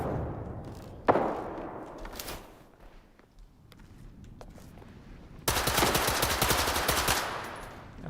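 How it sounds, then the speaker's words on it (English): Video game gunfire involving a sniper rifle: a couple of sharp, isolated shots ring out, then after a lull a loud, sustained rapid burst of fire rattles on for nearly two seconds. "Yeah, he's definitely got a sniper rifle."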